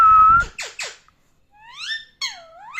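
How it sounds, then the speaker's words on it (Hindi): A pet parrot whistles: a long steady whistle over brief talk at the start, then sharp chirpy squeaks and rising, swooping whistled notes, close and clear. "मिट्टू, सीटी मार दो, सीटी मार दो"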